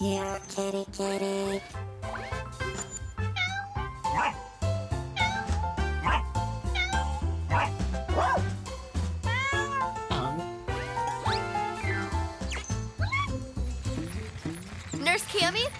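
Cartoon cat meowing in a children's animated episode, repeated mews sounding over busy background music and character voices throughout.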